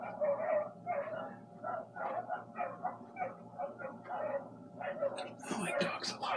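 A neighbour's dog yips and barks repeatedly in quick bursts from nearby, with a soft voice speaking under and between the barks.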